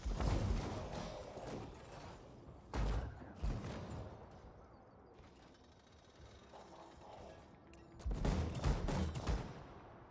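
Gunfire and explosive bursts in the sci-fi action game Anthem, several short rattling volleys and thumps at moderate loudness separated by quieter stretches of mechanical background noise.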